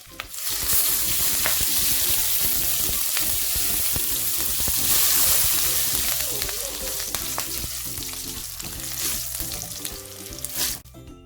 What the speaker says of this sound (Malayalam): അല്പം കറിവേപ്പിലയും കൂടെ ചേർത്ത് കൊടുത്തിട്ട് നമുക്കിതൊന്ന് ഇളക്കിയെടുക്കാം.